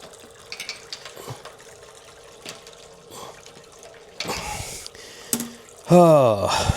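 Homebrewed wort for a Midwest hazy IPA drains from a Clawhammer brewing system, a rushing, splashing flow of liquid that grows louder in bursts toward the end over a faint background hum.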